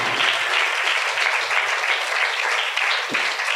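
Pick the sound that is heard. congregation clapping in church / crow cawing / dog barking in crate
congregation clapping in church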